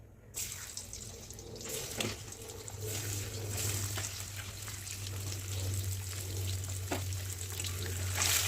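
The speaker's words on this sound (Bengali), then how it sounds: "ডিম ভাজা হয়েছে," Eggs fry in a pan of hot oil for an onion-and-potato egg curry, giving a soft continuous sizzle with occasional crackles and pops, fairly quiet and close with no talking.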